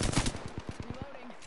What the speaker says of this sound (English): Who's shooting at me so badly?